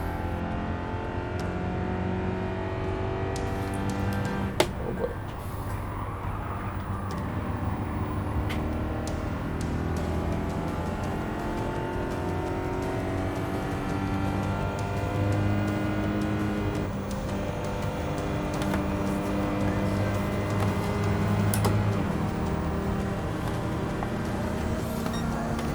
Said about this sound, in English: Our first race with the Honda FIT or Fit Hybrid to win the Toyota Aqua.